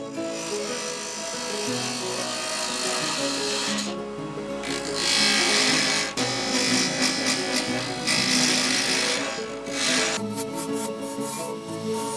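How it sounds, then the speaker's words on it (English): A wood lathe spins a handle blank while a gouge cuts a thinner section, giving a steady close scraping, rasping hiss with shifting intensity and brief pauses as the tool moves along the wood. "I turned this thinner section with a gouge and again used the skew for a finishing cut."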